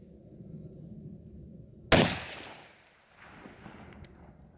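One sharp, loud crack from a 30-30 rifle firing a pointed tip bullet at a range cuts through quiet background noise, followed by a fading echoing tail, then quieter ambient sounds.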